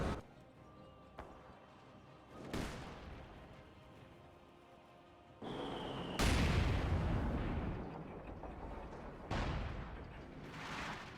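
Artillery barrage in Company of Heroes 2, with several heavy booming impacts landing at intervals, some near and loud and others more distant, over the faint ambient noise of a battlefield.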